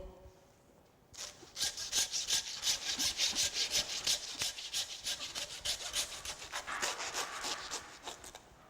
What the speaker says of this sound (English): cutting through the blade bone